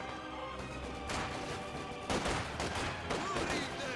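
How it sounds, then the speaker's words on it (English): Semi-automatic SVT-40 rifle fire in a Company of Heroes 2 battle on Hill 331, blending into a continuous, dense fusillade of overlapping gunshots with sharper bursts near the midpoint and toward the end. "They have the SVT-40s. So they have the semi-auto Russian rifle."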